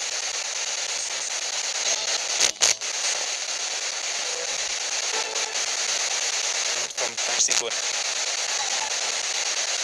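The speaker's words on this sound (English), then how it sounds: "use the white noise to speak to us" Steady broadband hiss of white-noise static from a ghost hunting device, loud and continuous throughout, broken by a few brief crackles and dropouts, with no voices heard.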